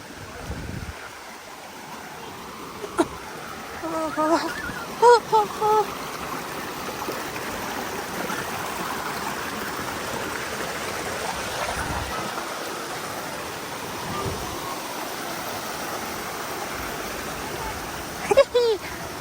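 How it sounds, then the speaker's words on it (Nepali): Water rushes steadily over rocks in a forest stream in a constant outdoor murmur, with a few brief faint sounds rising above it. "ढुङ्गा प्लस अनि पानी बगेको शीतल जङ्गलको बिचमा"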